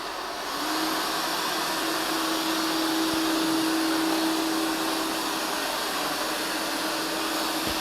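A eufy RoboVac LR30 Hybrid+ robot vacuum hums with a steady broadband whir and a low tonal drone, rising slightly as it ramps up suction and staying even and fairly close throughout.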